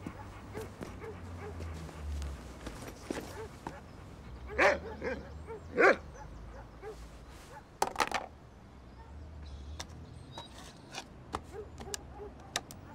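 A dog in a French drama film gives short barks and whimpering yips, several louder bursts spaced a few seconds apart over a low, quiet background.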